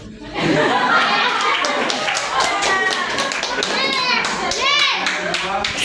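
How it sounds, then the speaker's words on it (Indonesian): Fourth-grade children clapping in a classroom, rapid overlapping claps close by mixed with excited children's chatter and voices throughout. "Tepuk tangan."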